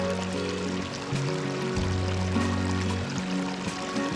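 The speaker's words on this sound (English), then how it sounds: "We heard the sound of gushing water throughout the trail" Water gushing and pouring steadily along a stream on a Black Forest nature trail, a constant close rushing wash with no voices.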